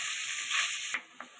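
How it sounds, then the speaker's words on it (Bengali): Paneer pieces fry lightly with a pinch of salt in a pan for palak paneer, giving a close, steady sizzle that breaks off near the end with a brief scrape and a small clink. "হালকা করে একটু ভাজা ভাজা করে নিচ্ছি পনিরগুলো"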